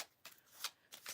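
Tarot cards shuffled to pull clarifiers, three short soft riffles close by and faint, with no voices.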